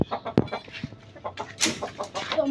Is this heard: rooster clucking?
yes